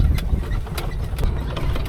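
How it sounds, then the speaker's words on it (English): A Kubota L175 tractor engine idles steadily up close on a blueberry farm, a low continuous rumble with faint irregular ticks and knocks, used for spraying weeds. "Now this is the tractor we currently use to spray our weeds with."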